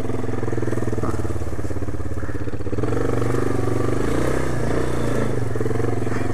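Loud, close engine of a 1997 Yamaha Big Bear ATV idling steadily as it drives through, with a low throbbing rumble and some clatter.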